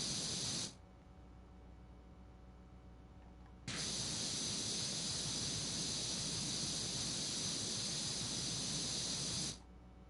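A tree is being washed with a water spray: a brief hiss, a pause, then a longer steady blast of about six seconds, close and even, with no voices.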